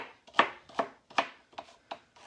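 Celery being chopped with a knife on a cutting board, six distinct crisp chops in a steady, unhurried rhythm, close and clear with no talking.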